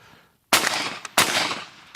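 Two loud, close blasts from a semi-automatic shotgun fired one-handed, either a Franchi Affinity 3 or a Winchester SX4, each a sharp crack followed by a brief ringing decay, about two thirds of a second apart.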